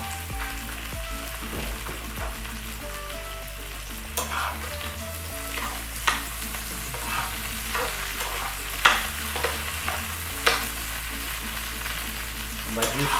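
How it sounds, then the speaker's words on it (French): Onions and tomato sweating in a little oil in a pan, a continuous sizzle with occasional sharp pops and stirring clicks over a low background hum. "On va juste faire ressortir un peu le goût des oignons avec la tomate. Nous allons suer nos légumes."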